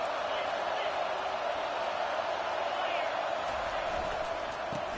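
A steady, dense roar of a stadium crowd fills an NCAA College Football 25 game, constant and loud throughout with no distinct cheers or breaks.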